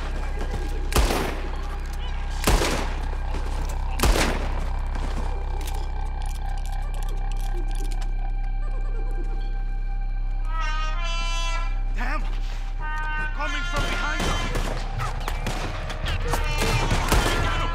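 Gunfire in a Red Dead Redemption 2 shootout, sharp loud shots fired in scattered bursts at the rope, with shouting voices in between and a rattling mechanical sound late in the fight.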